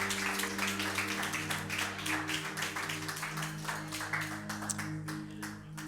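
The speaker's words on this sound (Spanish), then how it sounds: "Dile un aplauso al Señor" Church congregation applauding together, a dense, steady wash of clapping lasting throughout, with sustained low organ or keyboard tones underneath.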